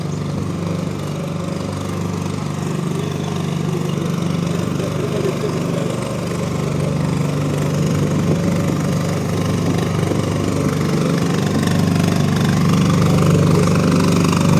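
A powerful power generator runs on a Lviv street in summer, a steady loud chugging engine drone close by that holds constant throughout with no talking.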